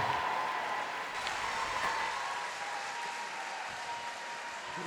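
An arena crowd at the 2019 Rogue Invitational fitness competition applauds steadily as Tia Toomey leaves the competition floor, a dense, even wash of clapping that carries on throughout without talk.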